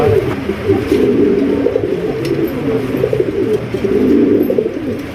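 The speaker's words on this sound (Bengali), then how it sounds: "দেখতে পাচ্ছেন আকাশি কালার মধ্যে কালারিং রাজগোল্লা কবুতর" Raj Golla pigeons coo continuously, with low, overlapping, throaty calls from several birds close by and no talking.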